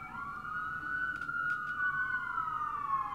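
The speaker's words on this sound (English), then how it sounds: "Look at the healing sirens." Emergency vehicle siren wailing outside, a loud steady tone sliding slowly downward as it passes, with faint traffic rumble underneath.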